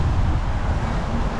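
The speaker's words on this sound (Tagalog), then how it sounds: "mahangin" Steady wind buffeting a handheld action camera outdoors by the Marina Bay waterfront in Singapore, a constant broadband rush with no breaks.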